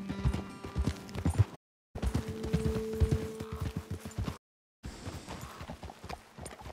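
Rhythmic clip-clopping of horse hooves at a walk in Red Dead Redemption 2, close and clear, broken by two short silent gaps.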